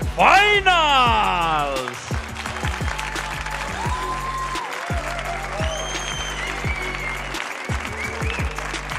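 An arena crowd at the 2023 World Cup of Pool semi-finals in Lugo, Spain, bursts into loud, sustained applause after a brief raised voice at the start, the clapping holding steady to the end.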